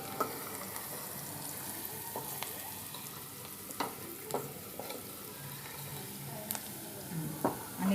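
Turmeric and asafoetida being stirred into roasting besan in a pan, a soft steady sizzle with scattered faint scraping clicks of a spoon, quiet and close with no talk.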